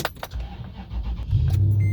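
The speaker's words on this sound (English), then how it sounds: "Let's see how the car starts now." A car engine cranks briefly, then catches and settles into a loud, steady low rumble close by, after a few clicks and light mechanical clatter.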